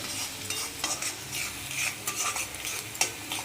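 Sliced onions sizzle in hot oil for prawn thokku while a utensil scrapes and stirs the pan in irregular strokes, close and steady, with no voices.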